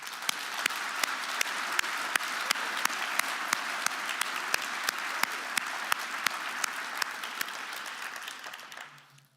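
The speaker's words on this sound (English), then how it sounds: "if I can ask you for a round of applause for this invisible work" An audience at an official opening gives a round of applause, a steady wash of many hands clapping with one sharp, regular clap standing out on every beat for about nine seconds before fading out.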